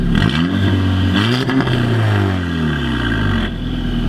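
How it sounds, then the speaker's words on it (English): An Audi A3 8P with a catless downpipe and custom exhaust revs loudly nearby, its engine note climbing sharply, then falling back to a rumbling idle. "it sounds sick out here though when you rev it"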